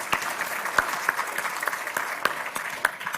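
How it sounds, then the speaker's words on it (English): Audience applause for a speaker at a Canadian Club event on economic reconciliation: steady, dense clapping from a crowd in a hall, with a few sharper individual claps standing out, continuing throughout without talk. "That deserves an applause"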